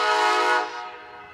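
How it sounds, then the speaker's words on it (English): An Amtrak train sounds its horn near the railroad tracks in Kalamazoo, Michigan, a loud blast that cuts off and leaves a fainter fading tail. "When I'm standing on the train tracks and I'm hearing a train blowing,"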